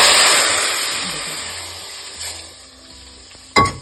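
A hot tadka of green and red chillies hits a pot of dal with a loud, bright sizzle that fades into a softer hiss, followed by a brief metallic clink near the end.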